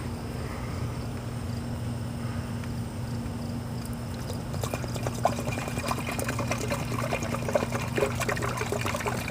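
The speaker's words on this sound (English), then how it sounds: "So now I'm going to add my flush. Okay, just pour that in here." Coolant flush cleaner pours and gurgles steadily into a Ford Focus engine, the splashing growing busier midway, over a low background hum.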